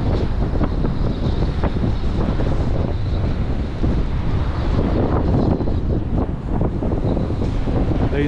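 Strong gusty wind on Blackpool promenade buffets the microphone in a loud, continuous roar, with a surf-like rush and no voices.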